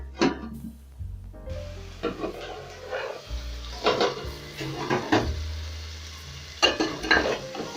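Pilau ingredients sizzle softly in a pot while a utensil stirs and scrapes in several separate bursts, the frying staying faint and close between the louder stirring clatter.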